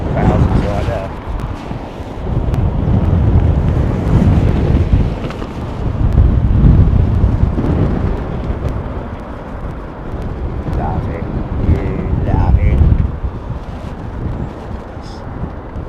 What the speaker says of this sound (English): you can hear the engines powering